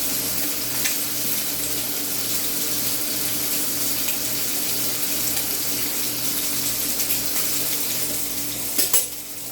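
A kitchen tap runs steadily while a knife is washed under the water, a loud continuous splashing stream close by, with a few clinks near the end.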